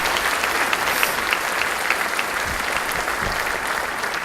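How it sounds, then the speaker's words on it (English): A theater audience applauds the production crew at a gala evening event, steady dense clapping from a large crowd that holds at full strength throughout. "how about a big round of applause for the production crew?"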